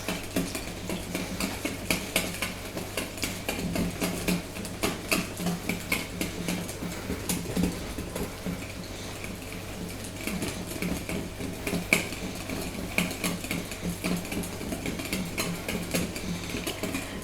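Crêpe batter of flour and water being whisked in a bowl: a steady, fast rhythmic clicking and scraping of utensil against the bowl, close up, continuing without pause for a long stretch.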